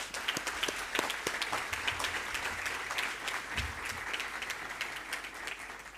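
At a school awards ceremony, the room gives the Minister a round of applause. Dense clapping from many hands runs steadily for six seconds at moderate volume, with a faint low hum underneath.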